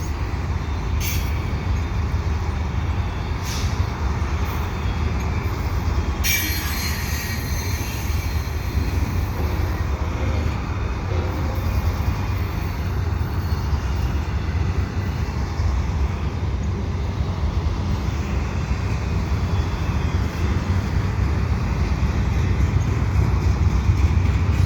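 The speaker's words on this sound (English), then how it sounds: "The CN double stack with the CSX train here waiting in the wings" A long CN double-stack intermodal freight train rumbles past nearby at Dorval, steady wheel noise and clanking cars rolling on, with a brief squeal and hiss of air brakes early on.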